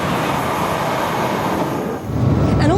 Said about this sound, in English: the train is accelerated or slowed down by another magnetic field